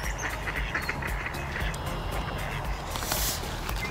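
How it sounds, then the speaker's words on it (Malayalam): A flock of ducks at a park in Canada, heard in the evening as continuous, fairly distant quacking and honking over an open outdoor background. "ഹായ് താറാവ് കൂട്ടങ്ങൾ"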